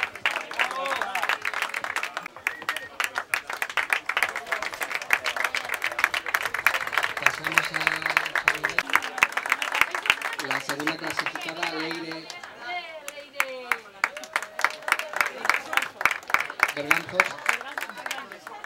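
A crowd claps for the winners of a children's triathlon at an outdoor awards ceremony, scattered sharp claps over chatter and a speaking voice, with the clapping growing denser and more rhythmic toward the end.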